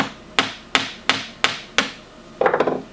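A chisel is struck lightly with a mallet while hand-cutting dovetails in wood: five evenly spaced sharp taps, close and clear, followed by a brief scraping rasp of the blade.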